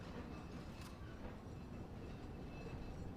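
A mine cart trundles along rails in Resident Evil 4, giving a steady low rumbling roll that fills the whole stretch with a continuous, fairly quiet hum and no speech.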